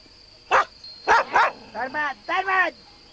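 Dogs barking nearby in a rural Turkish setting, five or six sharp close barks in quick irregular succession, with no voices.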